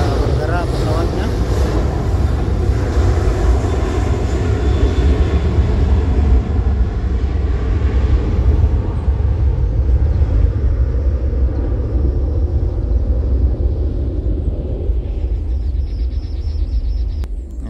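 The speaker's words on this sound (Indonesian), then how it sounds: "Sudah bergerak pesawatnya." A jet airplane taxiing and starting to move at Sultan Hasanuddin airport in Mandai, Makassar, heard as a loud continuous engine roar and rumble that slowly fades toward the end.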